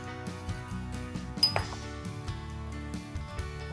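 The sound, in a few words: spoon stirring cookie batter in a bowl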